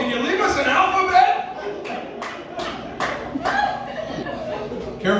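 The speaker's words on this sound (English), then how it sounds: "Careful about clapping there." An audience at a comedy show in a Redding roadhouse claps in a brief scattered burst of sharp hand slaps, mixed with chuckles and a murmuring crowd.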